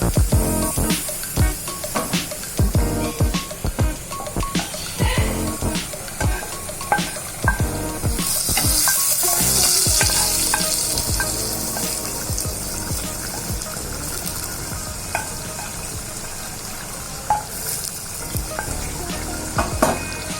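Fried banana stem curry mixture poured into a hot pan, crackling spatters giving way to a brighter surge of sizzle and steam, then steady frying with irregular stirring clicks.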